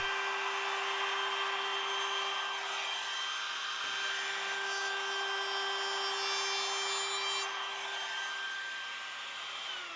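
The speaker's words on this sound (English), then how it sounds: "we'll round over all the edges except for the bottom of our feet with the router" Router rounding over the edges of a wooden crow-shaped paper towel holder, a steady loud high whine with a constant pitch running the whole time, with slight changes as the bit cuts along the wood.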